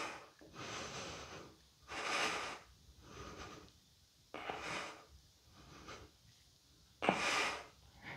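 Slow, audible yoga breathing during a back and shoulder mobility session, long inhales and exhales rising and falling in distinct swells, close and breathy, without speech.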